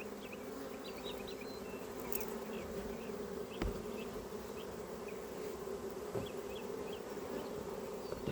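Honeybees buzz steadily at the entrance of a working hive as workers fan their wings, a dense continuous drone with scattered higher whines of individual bees passing close by, no voices present.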